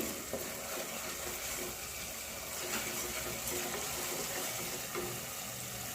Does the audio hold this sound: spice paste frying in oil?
yes